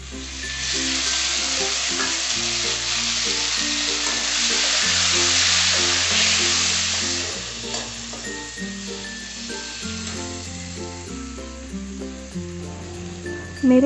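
Spices and tomato sizzle steadily in a hot pan for omelette curry, a constant frying hiss with quiet background music underneath.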